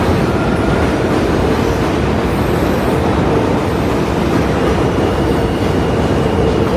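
Train passing close by near the Williamsburg Bridge in New York, a loud continuous rumble and roar of wheels on track with faint high metallic squeals over it.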